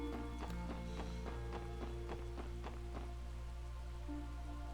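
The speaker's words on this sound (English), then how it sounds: "back out in the rain we go" Steady rain patter in the video game Trails to Azure, a soft continuous wash with regular light tapping beats over sustained background music tones, no talking.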